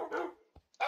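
A Minecraft dog gives two short barks, a longer one followed by a quick yip a moment later, close and fairly clear with no talk over them.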